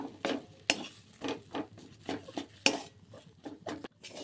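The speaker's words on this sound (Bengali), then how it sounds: "দুধটা দিয়ে দেবো পুরো, দিয়ে ভালো করে নাড়িয়ে মিশিয়ে নিতে হবে।" A spoon stirs Amul milk into a rice mixture in a pot, producing repeated scraping clinks and soft swishes in a steady rhythm, close and moderately quiet, with no talking.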